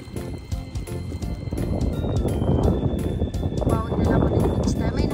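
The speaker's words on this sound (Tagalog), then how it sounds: "Tsaka malakas ang hangin ngayon" Strong wind buffets a small fishing boat out on the water, a steady loud rushing roar of gusts with microphone wind noise, while a person talks over it throughout.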